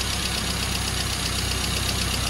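A car engine on point ignition idles smoothly and continuously, a loud, close, steady mechanical drone with an even rapid firing pulse throughout.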